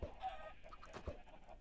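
Minecraft chickens clucking faintly in a few short, soft bursts, heard quietly alone without any talk over them.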